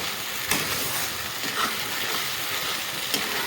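Spices and vegetables sizzle steadily in a hot pan for a dhaba-style mixed veg curry with ground cumin and coriander, a continuous close frying hiss broken by a few sharp crackles and stirring clicks.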